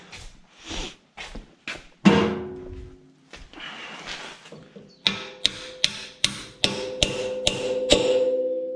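A hammer taps on the metal parts of an Ostrówek K-162 tractor front loader bucket during assembly. A few scattered sharp knocks give way to a steadier run of about ten ringing metallic taps, close and loud.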